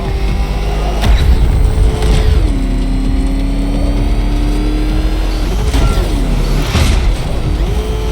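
Batmobile engine in Batman Arkham Knight revving loudly and steadily, with a sustained throaty roar and rising and falling pitch sweeps between sharper bursts, no talk.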